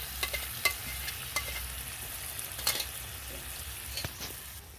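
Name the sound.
sautéing chicken with tomato, dried chili and cashew paste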